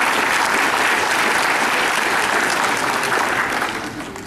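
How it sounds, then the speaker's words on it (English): Audience applause for the comics category winners of a cosplay contest at a convention, a loud, dense sustained wash of clapping from a large crowd that tapers off in the final second. "Give them a round of applause, folks."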